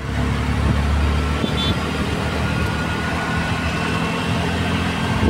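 Car engine idling while stopped in traffic, a steady, fairly loud low rumble running continuously, with a brief faint clink partway through and no talk.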